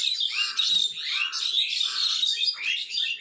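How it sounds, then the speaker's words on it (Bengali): Morning birdsong, several small birds chirping and twittering close by in quick, overlapping bursts, continuous and clear with no talk. "পাখির কিচিরমিচির"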